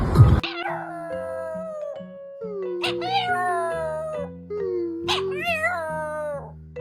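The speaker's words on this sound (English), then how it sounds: "That was a good howl." A dog howls several times in long, wavering, rising and falling tones, loud and close, with short pauses between howls and a brief noisy burst at the start.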